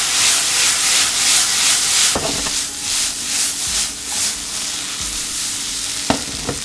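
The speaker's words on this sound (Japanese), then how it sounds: "しっかり焼き色がついた状態で白ワイン加えていきます" White wine hits seared salmon in a hot pan and sets off a loud, steady sizzle with rushing hiss. A few utensil knocks sound against the pan, and no one speaks.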